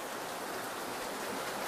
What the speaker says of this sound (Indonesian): Wah, di sini seperti hujan nih.